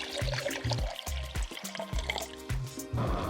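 One cup of water poured into a pot on a camping stove for a trail curry, with a close, splashing stream broken into several short bursts and gurgles.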